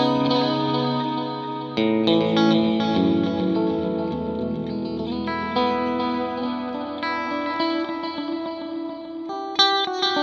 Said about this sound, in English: let's add a little bit of the reverb on the repeats